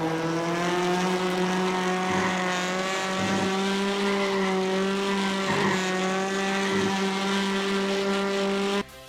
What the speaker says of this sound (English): Engine sound is decent across the different cars